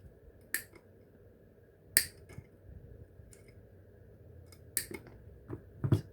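Wire cutters snip through wire at a jar's overlap, giving a few sharp, close clicks spaced irregularly, with small handling ticks in a quiet room.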